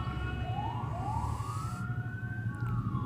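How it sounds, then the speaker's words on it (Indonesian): An ambulance siren wails on the road in Palur, Karanganyar, rising and falling faintly at a distance over the steady rumble of a motorcycle ride. "Ambulan pak, kasih jalan"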